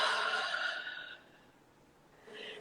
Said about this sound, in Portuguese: Respirando tranquilamente aqui,